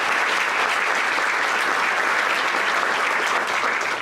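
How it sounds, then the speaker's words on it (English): Audience applause fills a high school senior night ceremony at Cardington Lincoln High School, a dense and steady wash of many hands clapping for four seconds with no talk over it. "please have a round of applause for Mr. Ron Joanne"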